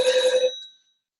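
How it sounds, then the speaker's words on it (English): An office telephone gives a single loud electronic ring burst that cuts off abruptly and leaves silence, with no voices. "so that's why you're hearing a phone ring at this time"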